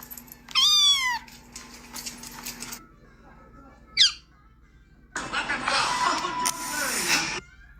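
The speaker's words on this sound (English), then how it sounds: "Sassy kitty." A cat meows loudly in a rising-and-falling call, then gives a short squeak, followed by a burst of noisy rustling or hissing sounds, with a faint low hum underneath.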